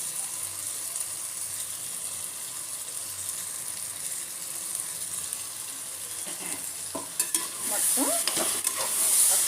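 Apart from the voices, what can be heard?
stirring broad beans and meal maker frying for vegetable biryani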